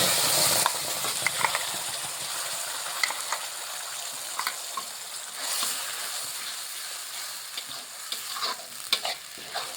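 Ground leaf paste sizzles in hot oil seasoned with black cumin and asafoetida, an even frying hiss with a brief loud burst at the start, under repeated scraping and clinks of a spoon stirring nearby.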